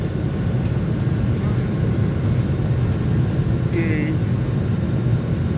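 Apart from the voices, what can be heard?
Lion Air airplane accelerating for takeoff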